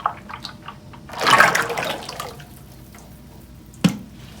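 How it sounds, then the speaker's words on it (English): A 50-50 lye solution pours into olive oil in a brief gurgling stream for about a second, followed by quiet drips and a single sharp knock near the end. "now let's pour in our lye"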